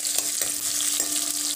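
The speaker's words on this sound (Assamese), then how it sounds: "পিয়াজ, কেঁচা জলকীয়া এইখিনিতে মই আকৌ অকণমান ভাজি লম।" Onions and green chillies fry in hot oil with whole cumin, a bright continuous sizzle broken by a few quick stirring scrapes, close and alone with no talk.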